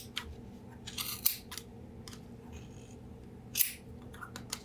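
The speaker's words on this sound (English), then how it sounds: "Now we're going to go ahead and cut our pom-pom." Scissors cut through a thick yarn pom-pom in a few crisp, close snips spaced irregularly over a low background hum, with no talk.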